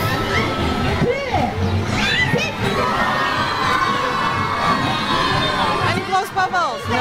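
Festival crowd outdoors with children shouting and cheering, a dense, continuous babble of excited voices close by, with high shrieks rising above the noise.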